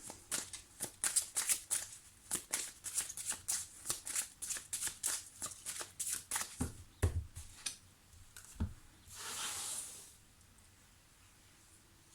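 Tarot cards riffled and shuffled for a five-card love reading: a rapid series of crisp flicks and slaps in uneven bursts, close and clear, ending in a soft sliding hiss, then quiet.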